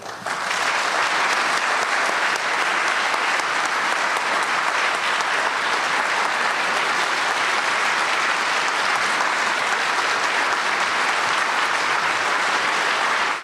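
An auditorium audience in Seattle applauds steadily to welcome Dr. David Ray Griffin, a dense, loud wash of clapping that holds at an even level throughout.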